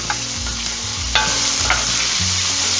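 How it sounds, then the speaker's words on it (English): Onions and diced carrots sizzling loudly in a pan where beef was just browned for a stew, with a steady close frying hiss and occasional scrapes and clunks of stirring, no voices. "we're going to try to scrape the bottom of the pan just to get all those brown bits off"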